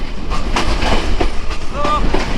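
Chilahati Express train rolling into Birampur railway station, a steady rumble of wheels over rail joints with soft clacking and a brief high squeal near the end, heard from on board.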